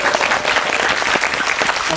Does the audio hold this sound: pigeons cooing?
no